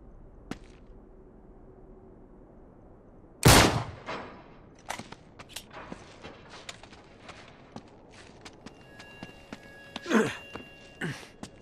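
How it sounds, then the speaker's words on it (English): A single loud gunshot in the video game Uncharted 3 fired at a lock, followed by scattered clicks, footsteps and a second, softer burst against a quiet background. "I'll shoot the lock."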